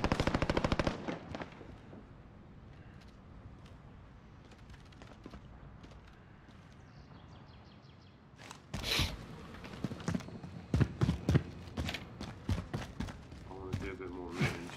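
Shotgun fire in the Warzone video game, loud blasts at the start and a cluster of sharp shots later, with quieter game noise and footsteps in between and a voice talking over it.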